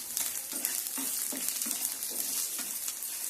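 Lentils and dried red chillies fry in a hot pan for a ginger chutney, giving a steady close sizzle with soft, regular stirring scrapes, alone with no voices.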